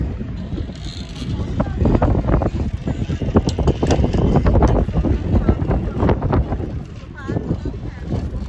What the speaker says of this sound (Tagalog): ang hangin. As in, mahangin